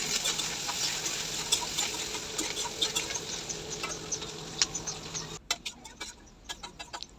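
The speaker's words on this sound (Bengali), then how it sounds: "এখন একটু পেঁয়াজ যে কুচি করলাম সেই পেঁয়াজটা একটু ভালো করে ভেজে নেব" Chopped onion fries in mustard oil with a dense, steady crackling sizzle that abruptly thins to sparse, scattered pops and ticks for the last couple of seconds.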